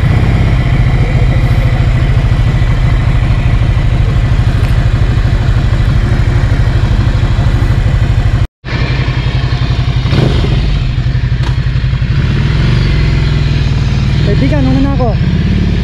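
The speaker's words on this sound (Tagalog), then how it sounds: "Ducati Icon Gen 2 Scrambler Icon." A Ducati Scrambler Icon Gen 2 motorcycle engine runs loud and close, a continuous low throbbing drone with a single brief cutout midway, then resuming steadily.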